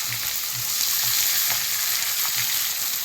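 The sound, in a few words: onions frying in oil in a kadai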